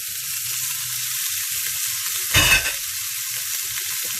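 Minced meat with cumin drops into a hot pan, giving one sudden loud hiss over a steady, quiet background sizzle of frying.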